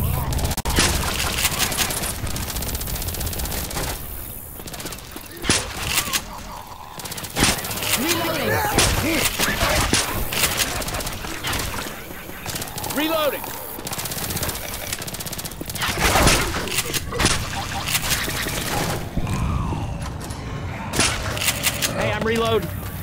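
Rapid gunfire bursts from Left 4 Dead 2 crackle almost nonstop, loud and close, with dense volleys broken by brief lulls, while players shout over the shooting.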